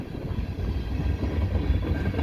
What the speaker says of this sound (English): And I should have a train coming soon.